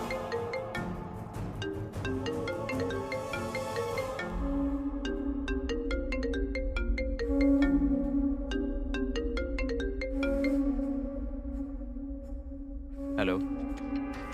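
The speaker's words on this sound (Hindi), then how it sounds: "फोन आया है, फोन दीजिए।" Melodic phone ringtone for an incoming call, a repeating tinkling tune that plays steadily for over ten seconds with a low background hum, then cuts off near the end.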